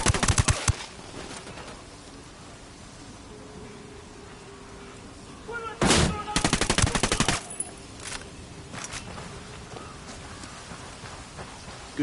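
Gunfire in Ghost Recon Wildlands, heard as a short burst at the start and then a loud automatic volley of rapid cracks midway, with a few scattered single shots over a steady background hiss.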